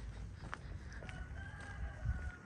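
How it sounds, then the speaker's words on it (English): A rooster crows in a quiet Siberian town street, a faint, distant call heard over low outdoor background noise. "You hear that rooster?"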